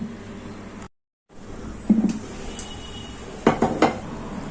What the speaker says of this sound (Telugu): కలబెట్టేసి మూత పెట్టి పులుసు ఉడికించుకుందాం.